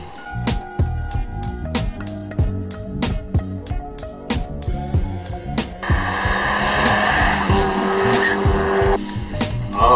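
A studded ice race car drives hard and skids, its engine revving up and down in sharp bursts before a long sustained tire-scraping slide, loud and close, with no talk.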